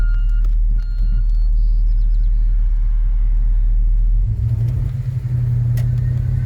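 A 1967 Chevrolet Caprice with a 427 big-block V8 idles with a loud, deep rumble, then revs up into a rougher, heavier roar toward the end.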